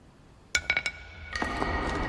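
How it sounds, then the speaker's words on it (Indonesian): Crystal stones clink together in a story set around the ACMA game: three quick bright glassy taps in close succession, then a fourth after a short pause, each ringing briefly over a low background rumble. "Dan terdengar suara batu kristalnya."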